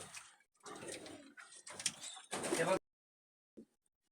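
Pigeons of a teddy breed coo in a few bursts, with pauses between them and one short soft call near the end.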